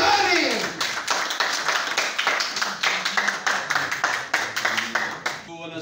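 Audience applause welcoming Syed Manzoor Gilani to the stage at a ceremony held in his honour, a steady burst of many hands clapping that fills the room and fades out at the end.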